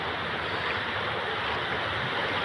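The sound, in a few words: fast-flowing water in a forest stream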